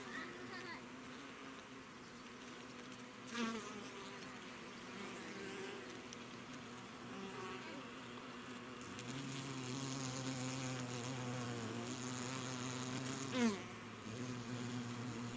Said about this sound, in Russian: Сразу несколько летных пчел начинают себе забирать сироп в зобик и заносить в улей.